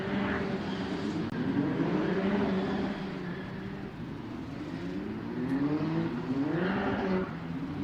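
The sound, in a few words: Formula Regional race cars driving to the starting grid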